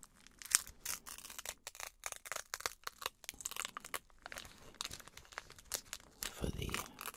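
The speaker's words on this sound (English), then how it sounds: "I like to peel it like a banana." Something being peeled apart slowly like a banana close to the microphone, a long run of crisp crinkling, tearing and crackling pulls in irregular bursts, intimate and quiet, ending with a fuller rustle.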